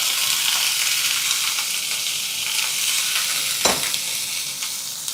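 Broccoli and eggs fry in a pan with a steady, bright sizzle throughout, plus a brief clatter of stirring near the end; no one talks.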